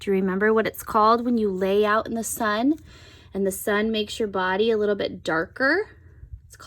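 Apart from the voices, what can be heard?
No distinct noise like a dog, phone or traffic.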